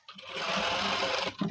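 A sewing machine runs a short, steady burst of stitching on a blouse with double piping, a close, even mechanical whir that starts and stops within about a second and a half.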